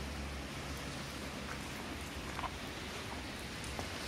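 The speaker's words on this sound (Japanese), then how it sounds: "すごい雨やった。" Heavy rain pours steadily and loud, a dense unbroken hiss of water hitting the ground with no voices or other sounds above it.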